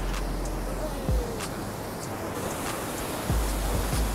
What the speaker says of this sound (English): Waves are fucking huge.